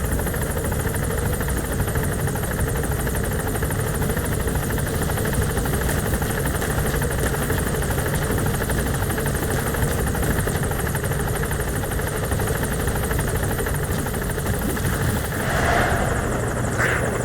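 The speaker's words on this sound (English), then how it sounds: "Support helicopter has arrived." A support helicopter hovers close by at a landing zone in Metal Gear Solid V: The Phantom Pain, its rotor and engine droning loudly and steadily throughout, with no speech.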